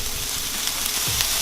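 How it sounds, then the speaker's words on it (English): Vegetables sizzle loudly in a hot pan for a chicken veggie stir fry with leftovers and a splash of soy sauce, a dense continuous hiss close up with faint scraping beneath. "you just add a vegetable, you hear a sizzling sound"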